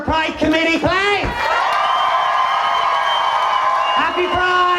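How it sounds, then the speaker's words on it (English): Crowd at Limerick Pride 2012 bursting into applause and cheering, a loud, dense wash of clapping and whoops that swells after some shouted voices and continues for several seconds. "Can I have a huge round of applause for our Pride Committee, please?"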